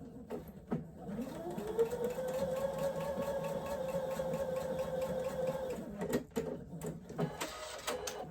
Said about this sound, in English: now I'm going to sew real quick, corner to corner, right there